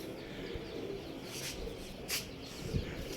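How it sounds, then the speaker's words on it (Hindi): Faint pigeon coos from a flock of homing pigeons returning to a rooftop loft, soft low calls with a few brief higher chirps against quiet outdoor background noise. "कबूतर आ गए हैं"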